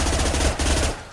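A submachine gun firing in the game Mass Effect 2, a loud close rapid burst of automatic shots that runs almost the whole moment before cutting off, no talking.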